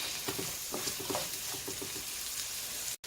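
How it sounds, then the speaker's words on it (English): Onions and carrots sauté in a pan, giving a soft continuous sizzle broken by a rhythmic run of light stirring taps and scrapes. "So I'm sauteing the onions and the carrots."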